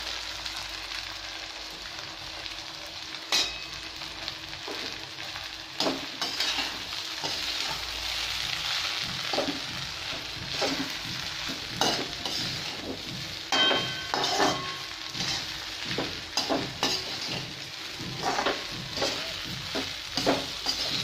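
Sabudana khichdi is stirred in a hot pan, with a soft continuous sizzle under repeated close scraping and tapping strokes of a spoon against the metal, irregular and unhurried throughout.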